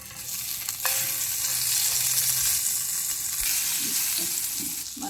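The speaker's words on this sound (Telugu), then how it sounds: "బటర్ వేస్తున్నాను." Amul butter sizzles and crackles in a hot pan on a lit stove, a steady, close frying hiss that runs the whole time with no one talking.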